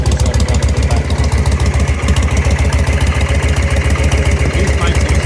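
A 1999 Victory V92 motorcycle engine runs loud and close at idle, a steady deep, rapid pulsing throb that holds evenly throughout with no pauses.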